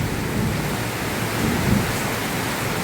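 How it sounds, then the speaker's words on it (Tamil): Steady heavy rain pours throughout a rainstorm, with a low rumble of thunder rolling beneath it, close and constant, with no voices. "பாருங்க இடி மின்னல்."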